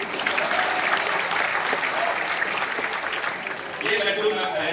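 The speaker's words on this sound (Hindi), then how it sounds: "जोरदार ताली सर।" A university audience gives a comedy performer a loud, dense round of applause, sustained and close throughout, with a brief dip near the end before the clapping swells again.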